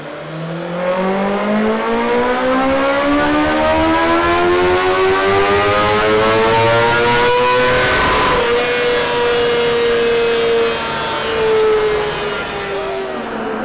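A BMW M1000RR superbike engine screams on a rear-wheel dyno, its pitch climbing smoothly through a long sustained rev to a peak, then holding and easing slightly, loud and close with no voices.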